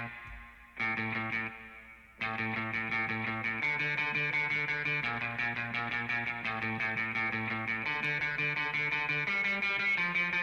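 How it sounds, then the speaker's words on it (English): Electric guitar through the Amplitube plugin on its sustain setting, a run of rapid ringing notes that blend and hold into one another, steady and prominent with no talk. "if I have this set to sustain, it would sound like this"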